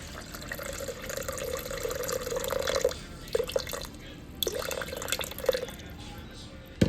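Water poured into a mixing bowl with sourdough discard for bread, a soft trickling stream that breaks off and resumes in short splashes, close and fairly quiet in a home kitchen.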